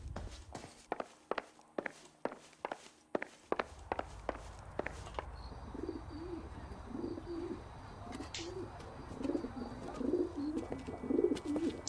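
Pigeons coo repeatedly on a rooftop in L.A. Noire, soft rhythmic calls rising over ambient city noise after a run of quick footsteps across the roof.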